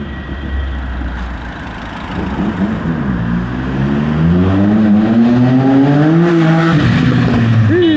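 A Triumph Speed Triple 1200 RS motorcycle fitted with a Zard exhaust approaches, its engine note climbing into a loud, rising roar as it nears and passes, with faint voices underneath.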